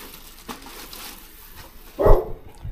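A dog gives a single short bark close by, after a few quieter soft noises in a calm room.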